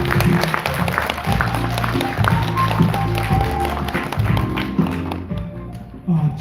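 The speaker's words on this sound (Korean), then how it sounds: "큰 박수 부탁드리겠습니다" Audience applause at a political party founding convention in Korea, a dense wash of clapping throughout, mixed with background music and faint voices in the hall.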